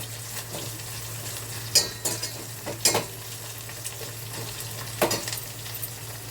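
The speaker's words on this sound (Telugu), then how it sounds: "ఉల్లిపాయలు, పచ్చిమిర్చి బాగా వేగాలి." Onions and green chillies with curry leaves fry steadily in a pan for an Andhra-style buttermilk curry, a continuous soft sizzle with a few sharp stirring scrapes, close and alone.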